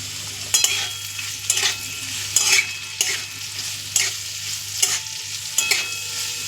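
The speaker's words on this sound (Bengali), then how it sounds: "পেঁয়াজটা ভাজাও হবে কিন্তু রঙটা লাল করব না," Two large onions sizzle in hot white oil over a low flame, a spatula scraping through them about once a second in a steady rhythm over a constant frying hiss, near and with no voices.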